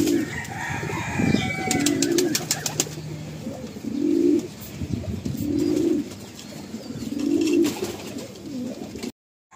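Kapalduri-bloodline pigeons kept by a breeder in Kolkata give a series of low, rhythmic coos at close range, repeating every second or so. Faint chirps and brief clatters sound in the background.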